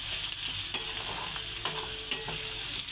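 Okra fries in a pan for a Punjabi-style masala curry, giving a constant loud sizzle with light, intermittent stirring scrapes on top and no voices.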